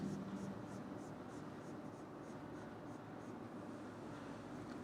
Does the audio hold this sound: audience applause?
no